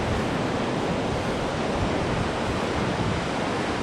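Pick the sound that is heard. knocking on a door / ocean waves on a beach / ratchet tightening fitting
ocean waves on a beach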